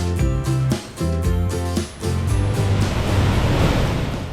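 Loud, steady roar of rushing water and gusting hurricane-force wind at Niagara Falls, preceded by a few seconds of tonal, music-like sound.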